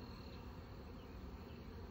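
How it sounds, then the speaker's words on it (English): A swarm of honeybees in an apple tree makes a faint, dense, continuous buzzing hum, steady and even with no voices over it. "Swirling mad bees running around my head."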